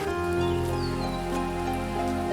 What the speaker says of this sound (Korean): 밤에 갑자기 천둥 번개가 치며 비가 내렸다.